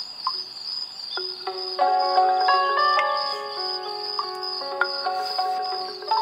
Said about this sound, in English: we can really hear those crickets now